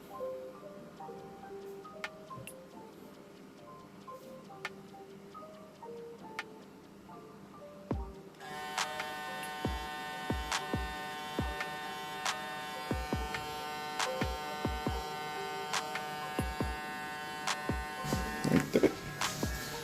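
Kiepe Top Gun motor spinning up for an RPM test, a steady tonal electric whine with many harmonics that grows louder and denser partway through, with clicks and ticks scattered over it.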